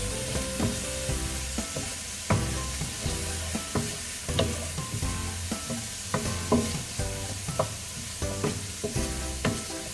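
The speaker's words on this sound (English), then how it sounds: "We just want the onion to sweat a little bit, wait for it to get translucent." Chopped onion sweating in a hot pan for farro risotto, sizzling steadily while a utensil stirs and scrapes in a regular rhythm of clacks, close up and with no speech.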